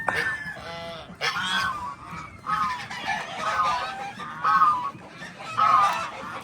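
Geese honk in repeated loud bursts, several calls rising and falling in a rough rhythm, close by with a noisy background.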